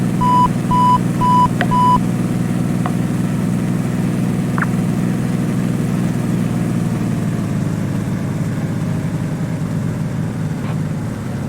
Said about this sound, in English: Okay, loud beep again.